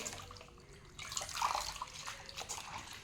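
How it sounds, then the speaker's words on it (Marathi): Okra being washed in water, giving soft splashing and trickling with a few brief drips, fairly quiet and close, with no voices. "या भेंडीलासुद्धा धुवून घेऊ आणि नंतर याला चिरून घेऊ"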